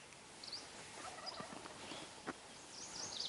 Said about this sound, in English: I don't know if you can hear the turkeys now. I've got turkeys in front of me